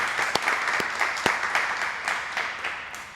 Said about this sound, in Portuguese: Vamos parar um aplauso para Mike, please.